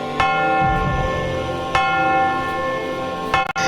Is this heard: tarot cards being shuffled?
no